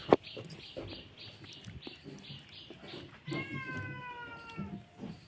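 A cat being offered food lets out a drawn-out, clear meow near the middle, amid soft shuffling and clatter from a household setting.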